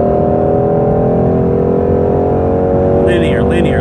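A 2018 Ford Mustang GT350 accelerates in fourth gear at about 78 to 80 mph on the highway, its engine a loud, steady, close droning roar with slowly rising tones, and a voice briefly speaks near the end.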